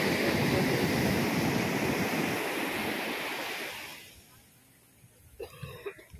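Sea surf rolls in at a beach in Goa, a loud wash of breaking waves and wind that fades away after a few seconds into quiet, with a few faint noises near the end.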